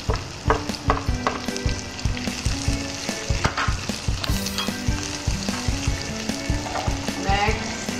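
Garlic and onion sizzle steadily in hot oil for a carbonara base, loud and close, with dense crackling broken by scraping utensil strokes and clatter; no one speaks.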